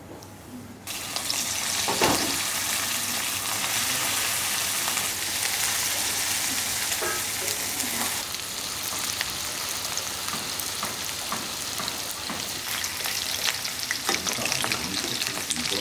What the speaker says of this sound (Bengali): বন্ধুরা আমাদের তেল গরম হয়ে গেছে, এবার মাংসগুলো তেলে ফ্রাই করে নেব।